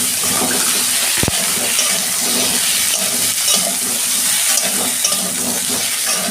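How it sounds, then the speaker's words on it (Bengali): Cauliflower pieces frying in a pan with turmeric and salt, a steady loud sizzle running throughout, with one brief knock of a utensil near the start. "কপিটা ভাজছি"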